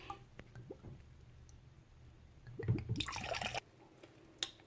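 Overproof white rum, 63% Rare Nephew, glugs from a bottle into a batch of Jamaican sorrel, a brief burst of liquid pouring and splashing after some small knocks and drips, fairly close.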